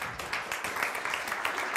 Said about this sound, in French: Déjà, on va l'applaudir.